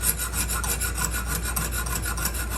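A Lansky sharpening system stone hones a knife edge in quick repeated back-and-forth strokes. The rasping scrape is close, steady and rhythmic, with no talking.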